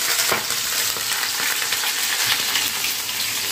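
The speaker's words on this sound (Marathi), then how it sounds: "आणि मग कढीपत्ता घालायचा आहे. चांगला असा हलवून घेऊया." Curry leaves, green chilli and garlic frying in hot oil for a Maharashtrian pitla while being stirred, a dense continuous sizzle with faint spatter, close and loud throughout.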